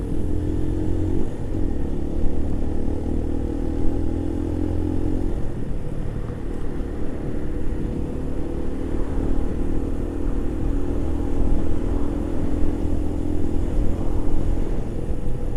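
Keeway RKV 125 motorcycle engine running steadily with a continuous low rumble and slight rise and fall in revs, close and fairly loud throughout, no talking.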